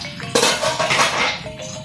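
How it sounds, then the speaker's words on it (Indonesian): A metal lid clatters and clinks down onto a cooking pot on the stove, one sharp ringing contact followed by brief rattling, close and loud in a home kitchen. "Kita hidupkan kompor kita, tutup periuk kita sampai mendidih."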